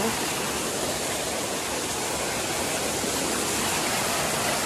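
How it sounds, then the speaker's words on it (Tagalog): Small waterfall near Barangay Napsan, a loud, constant rush of falling water filling the whole scene without letup. "ito yung waterfalls niyan"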